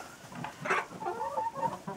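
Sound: domestic hen on a nest

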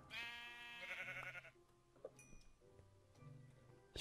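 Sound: sheep bleating in the video game Minecraft

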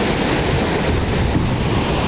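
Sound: typhoon ocean waves breaking at Sendai Shinko beach

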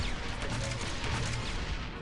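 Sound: gunfire in the video game Republic Commando

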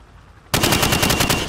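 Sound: gunfire shooting targets through plywood in a video game

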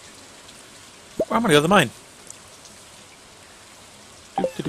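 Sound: rain falling in the video game Stardew Valley

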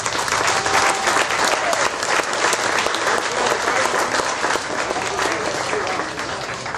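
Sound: round of applause for the event organizers

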